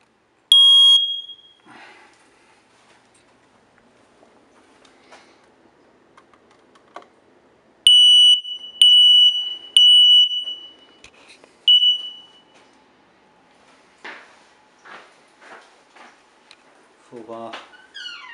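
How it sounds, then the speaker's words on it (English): A home smoke detector sounds during a house inspection with sharp high beeps, one short burst at the start and then a run of several loud beeps midway, separated by quiet rustling and faint talk. "Smoke detectors work."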